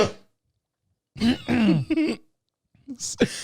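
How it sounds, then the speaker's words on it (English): A person clears their throat and coughs up close, a few harsh rasping bursts separated by short silences. "I had a cough. I had some stuff in my throat."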